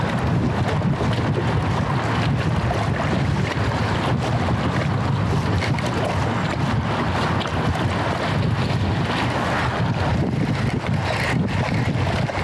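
Heavy wind buffets the microphone with constant low rumbling roar for the whole stretch, with faint splashing of water beneath.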